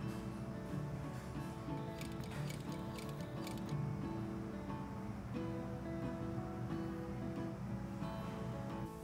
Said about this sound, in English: Now we're gonna cut a notch on both corners where we left it unsewn.